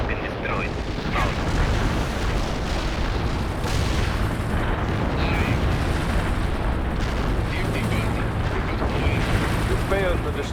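Artillery explosions rumble continuously in the World in Conflict real-time strategy game, a dense, sustained barrage of booms and blasts with voices talking over the battle.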